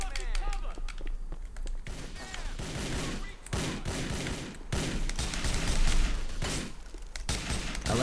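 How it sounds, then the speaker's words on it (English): Enemies blast buckshot at the player in GTA IV, loud bursts of shotgun and gunfire in clustered volleys with brief gaps, mixed with game action noise. "I like that they're all shooting me with like buckshot for the most part"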